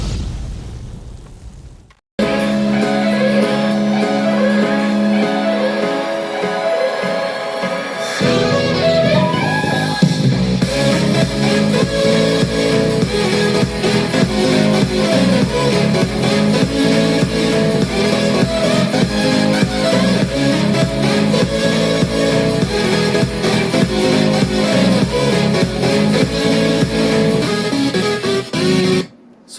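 An NCS electronic track plays through homemade bookshelf speakers with no subwoofer, starting after a brief silence, then building into a loud, dense beat with steady percussion that runs to the end and cuts off abruptly.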